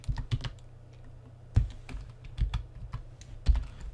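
Computer keyboard being typed on while entering code, bursts of quick close clicks with a few louder key strikes and short pauses between runs.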